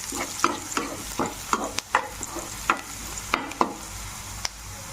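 Onions, chana dal and turmeric in a pan for a spinach and chana dal curry, stirred with a rhythmic series of spoon scrapes and taps over a soft, continuous frying sizzle, close, with no talk.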